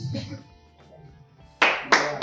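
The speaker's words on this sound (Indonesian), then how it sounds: "Tepuk tangan dong." An audience at a formal MOU signing ceremony breaks into clapping in short loud bursts at the end, after a stretch of quiet speech in the room.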